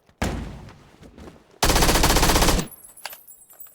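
Two loud bursts of rapid automatic gunfire from an SKS rifle in PUBG, the second longer and denser, followed by a few scattered shots and quieter game-like sounds.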